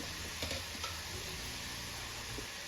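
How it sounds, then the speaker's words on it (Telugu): Sliced okra fries in hot oil in a pan with a steady, close hiss and sizzle, broken by a few faint stirring clicks and no talking. "టూ మినిట్స్ తర్వాత ఇంకా నేను తీసేస్తున్నాను చూడండి ఎంత మంచిగా ఫ్రై అయిపోయిందో"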